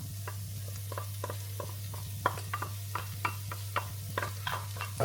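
Vindaloo paste frying with softened onions for pork and potato vindaloo, a quiet sizzle under a steady hum, with repeated rhythmic scrapes and taps of a spoon stirring the pan throughout.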